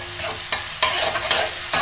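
Sliced shallots sprinkled with salt fry in hot oil with a loud, dense sizzle, while a spoon stirs them in periodic scraping sweeps.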